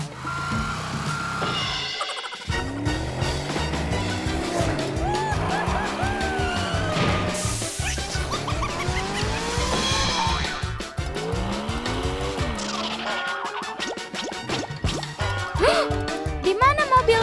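Bugatti supercar in a video game skidding and squealing its tyres over loud engine revving and shifting tones, continuous and close, with game music and effects layered throughout.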